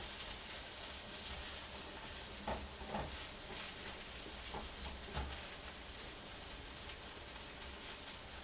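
Garlic frying in a pan for meal-prep turkey tacos, a steady dense sizzle with a few soft stirring scrapes, close and even throughout with no talking.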